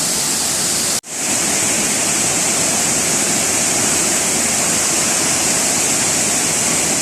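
Vera Falls in Bicol pours in a dense, loud, continuous roar of falling water, heard up close and unbroken after a brief dropout at the start.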